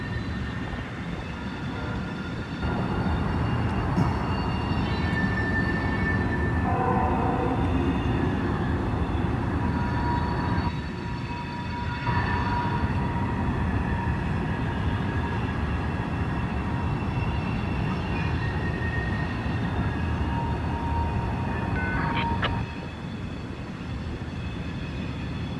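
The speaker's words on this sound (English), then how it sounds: "Yep, you got that train right there, plus the northbound version" A train rolls past on the Indy subdivision on a cold, windy day, a steady loud rumble of rail cars and wheels with brief horn-like tones, holding for most of the stretch before easing off near the end.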